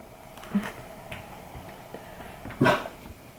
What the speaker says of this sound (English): dog barking again